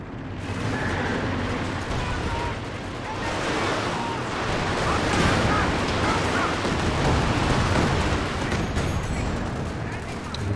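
Werfer rocket artillery rains down in a Company of Heroes 2 3v3 match on Across the Rhine, a dense, continuous roar of blasts and gunfire that stays loud for the whole stretch.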